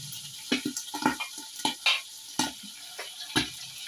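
Food frying in a pan for ginataang kalabasa with malunggay, with soft sizzling under repeated, uneven scrapes and clinks of a utensil stirring against the pan.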